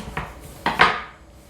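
A kitchen knife cuts through vegetables on a cutting board while lo mein is being prepped, giving three sharp knocks: one early, then two close together, with a short ringing tail after the last.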